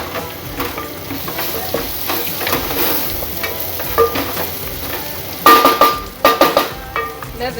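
Garlic fries in a pan for a matoke and beef dish, a constant busy sizzle close by, with a spoon stirring and clinking against the pan in a few sharp bursts toward the end.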